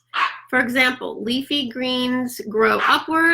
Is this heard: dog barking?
yes